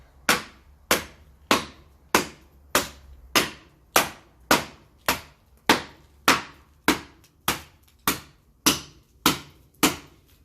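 A Heritage Blades Ang Khola kukri chops into hardwood with about fifteen crisp, evenly spaced impacts, each sharp thwack ringing briefly before the next blow lands.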